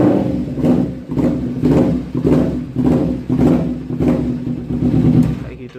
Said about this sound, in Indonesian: Itu suara mesinku